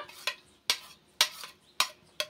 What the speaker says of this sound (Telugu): ఇంకా బెల్లం కరుగుతూ ఉంటుంది, ఇలా కలుపుతూ ఉండాలి